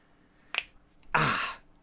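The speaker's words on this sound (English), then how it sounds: "snap my fingers" A single finger snap rings out sharply and close, followed moments later by a longer burst of broadband noise, with no talking.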